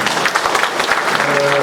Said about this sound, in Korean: 이분들한테 박수 한번 보내주시기 바랍니다